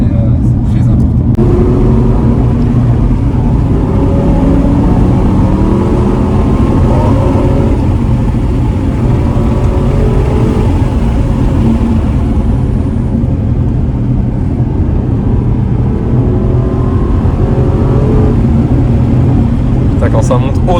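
A Mercedes-AMG GT C or Aston Martin Vantage N430 climbs high through its revs on a Moroccan mountain road, a loud, close, rising engine note heard from inside with people talking over it.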